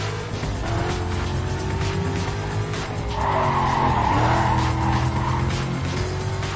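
Car tires screech loudly in Need For Speed Carbon during a racing career event, a sustained skid over a steady engine roar that swells sharply midway and holds to the end, with no talking.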